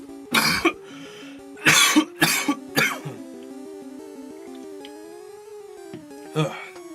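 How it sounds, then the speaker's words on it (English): One person coughing in a handful of harsh bursts, close and loud, with a throat-clearing sound, over quiet chiptune game music from Pokemon Yellow. "because I'm coughing"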